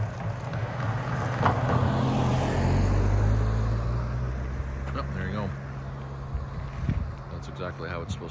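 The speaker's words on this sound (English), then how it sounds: "Oh yeah, actually here comes a car now." A lone car approaches along a quiet road near a bridge with a blind corner, a low engine rumble swelling to a peak and then fading away, with a person talking over it.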